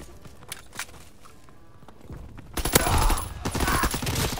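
Gunfire in Call of Duty: WWII, scattered single shots and footsteps at first, then a loud, dense burst of rapid firing takes over for the second half.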